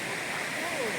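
Rushing water from Pedabayalu waterfall near Hukumpeta forms a steady broadband roar heard from some distance along a forest road, with no clear speech.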